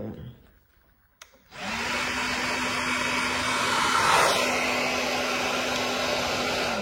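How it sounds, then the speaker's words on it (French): A hair dryer switches on after a quiet moment with a small click, then blows a steady, close whoosh with a constant motor whine while drying a frontal hairline, swelling a little louder partway through. "tu mets un petit coup de sèche-cheveux pour activer"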